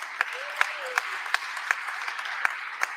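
A small audience claps for filmmakers after a film session, a thin, sparse patter with a few sharper individual claps standing out at an even pace, fairly quiet and with no talk.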